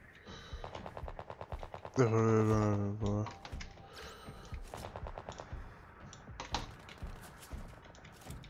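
Rapid gunfire bursts from the video game Sniper Ghost Warrior Contracts crackle in quick succession, with a loud burst in the middle. Players talk over the shooting.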